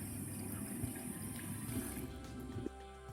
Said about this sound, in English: rinse with hot water, warm water